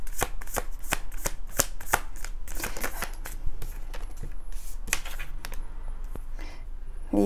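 Tarot cards are shuffled and drawn close up, giving a fast run of crisp flicks and riffling clicks, with no voices.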